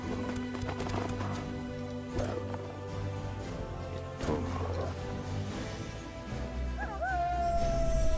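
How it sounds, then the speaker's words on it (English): A lycanthrope's wolf howl ability sounds in the strategy game Age of Wonders 4, with a rising and falling howl near the end over steady in-game music and ambience. "We could wolf howl those two."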